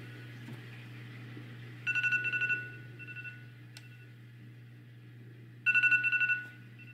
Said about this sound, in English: It was my phone alarm.